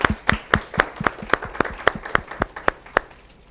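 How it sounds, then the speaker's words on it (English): A small audience at a child welfare hearing gives a brief round of applause: a handful of distinct, crisp claps in an uneven rhythm, close and clear, thinning out toward the end. "I'd like to just give them a round of applause,"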